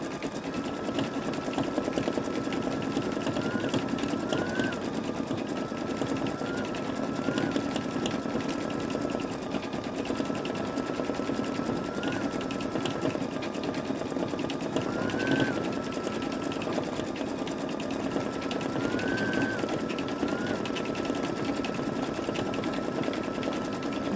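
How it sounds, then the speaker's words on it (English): An old Babylock Esante embroidery machine embroiders flowers on a towel with a steady, close mechanical hum and rapid needle chatter. It runs continuously, with brief high squeaky tones recurring now and then. "it's always different when you sew it out on the real piece of garment that you're embroidering on"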